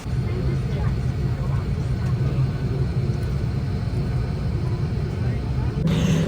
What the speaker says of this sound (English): the plane started its pushback to start the journey. And as we were taxiing towards the runway